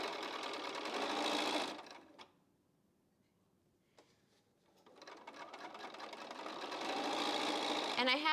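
A sewing machine stitches quilt block pieces together in steady bursts, stopping for a few seconds before whirring back up to a fast continuous run, close and loud.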